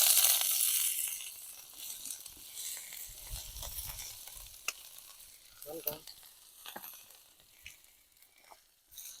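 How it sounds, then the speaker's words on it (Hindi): Small chopped onion pieces drop into hot ghee and sizzle, starting with a loud hiss that settles into a softer, crackling fry, with occasional stirring and scraping sounds close by. "तो घी गर्म हो चुकी है। अब हम इसमें डालेंगे एक प्याज हमने लिया है"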